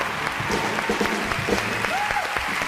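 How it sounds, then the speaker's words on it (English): An audience applauds steadily for six eco and humanitarian organizations at an association event, a dense wash of clapping throughout with a faint voice rising briefly near the end. "Let's give a round of applause to the 6 dedicated eco and humanitarian organizations."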